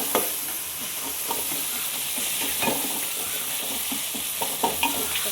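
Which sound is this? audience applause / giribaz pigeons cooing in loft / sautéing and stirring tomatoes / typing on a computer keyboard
sautéing and stirring tomatoes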